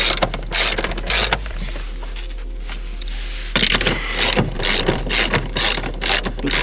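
Ratchet wrench loosening a seatbelt bolt inside a car, rapid loud metallic clicking in bursts, a brief lull, then more fast ratcheting close by; no speech.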